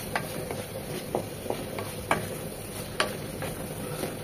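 Fried taro being stirred into cooked-down spices in a pan for a rohu fish curry, with a soft steady sizzle and several sharp spatula scrapes and clinks against the pan, close and alone.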